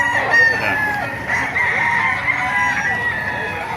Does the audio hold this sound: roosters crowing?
yes